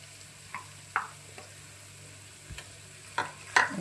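Ivy gourd frying with onion and chili powder is stirred in a pan, soft sizzling underneath a few sparse, close scrapes and taps of the spoon, quiet and without talking.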